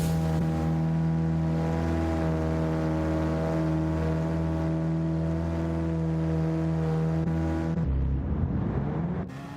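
A Radical SR3 SL race car in Gran Turismo 7 drones with a steady buzzing engine note as it enters the pit lane, loud and close, then drops off sharply near the end, with no talking.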